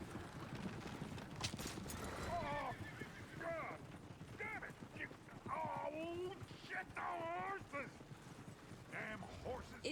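Horses whinny and neigh repeatedly amid clip-clopping hooves in the Western video game Red Dead Redemption, with game characters talking over the animal sounds throughout.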